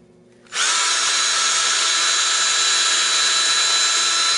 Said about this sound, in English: I drill those out real quick.